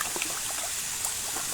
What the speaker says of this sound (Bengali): ঝর্ণাটা আর একটু জোরে বাড়াইতে হবে আরে না যথেষ্ট জোরে আছে তো